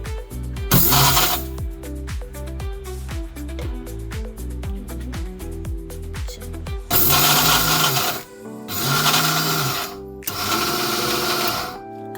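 Electric mixer grinder jar grinding roasted sesame seeds, cashews and almonds: a rapid rattling, stuttering pulse at first, then three loud harsh whirring bursts separated by short pauses, close and alone.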